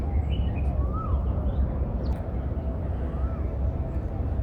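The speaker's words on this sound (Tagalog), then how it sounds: "Ay, may ibon, oh." Small birds, including a Chinese bulbul, chirp faintly in Tuen Mun Park, Hong Kong, with brief scattered calls over a constant, loud outdoor rumble.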